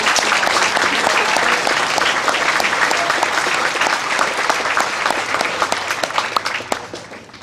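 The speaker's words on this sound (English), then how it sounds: "So please give all of our coaches this season a round of applause." An audience at a senior awards ceremony applauds the season's coaches with sustained, dense clapping that holds strong, then thins and fades toward the end.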